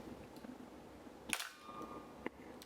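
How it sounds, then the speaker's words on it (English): A sharp mechanical click of an analog film camera shutter rings out once, near and crisp, followed by a fainter second snap in an otherwise quiet room. "click this shutter"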